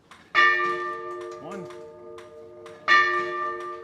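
A Seth Thomas clock bell strikes twice, each chime loud and close with a long ringing decay, and a voice speaks briefly between the two strikes.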